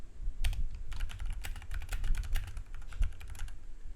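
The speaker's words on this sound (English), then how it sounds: "just hit enter on your keyboard once and backspace twice" Steady keyboard typing on a computer keyboard while formatting text in Google Docs, with quick clicky keystrokes including Enter and Backspace presses, fairly close and continuous, no voices.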